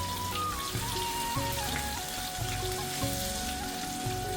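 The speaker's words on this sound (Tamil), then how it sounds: "நல்லா வேகிற வரைக்கும் இந்த பக்கம் அந்த பக்கம் திருப்பி வச்சு பொரிச்சு எடுக்கணும்." Masala-coated eggplant slices frying on a tawa, giving a steady, dense sizzle that continues throughout under soft background music.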